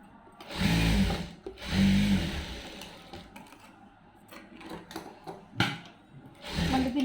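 A sewing machine stitches the lining of a blouse in short bursts: the motor whirs up for about a second at a time, pauses, then runs again, with light handling clicks in between.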